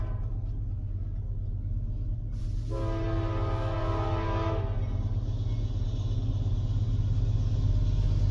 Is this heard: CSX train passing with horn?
yes